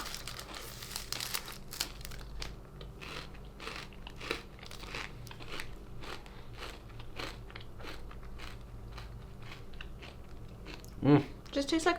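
Close, crisp crunching and crinkling as a flaky peanut butter wafer coated with a little coconut is bitten and chewed, with repeated bites and rustling throughout and a louder crunch near the end.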